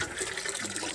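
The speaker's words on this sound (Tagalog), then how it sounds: "ang bilis ang tubig" Fast-flowing water rushing at a resort, a loud continuous hiss and gush close by with no talking.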